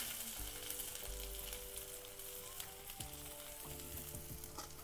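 Squeezed pumpkin leaf stalks fry in a hot oil tempering, a quiet, steady sizzle close by with occasional stirring clinks and no voices.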